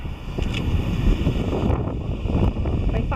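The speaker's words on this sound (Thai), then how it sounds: "ลมแรงมากนะคะ ลองดูนะ ข้างหลังเปล่า คลื่นแรงมากเลยอ่ะ" Strong gusty wind buffets the microphone at Bethany Beach with crashing surf behind it, a loud, rough roar that surges and dips throughout.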